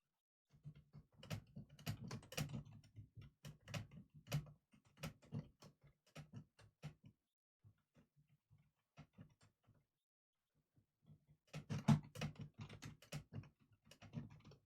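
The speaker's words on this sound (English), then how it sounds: "it's hard to type because my microphone is right in front of my keyboard" Typing on a computer keyboard with a microphone right in front of it, quiet clicky keystrokes in rapid bursts, a pause in the middle, then another flurry, close and with no talk.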